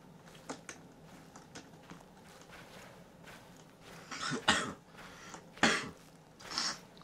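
Several dry coughs in the video game Slender: The Arrival come in a loose cluster, the later ones louder and rougher, over a faint ambient background with light rustling.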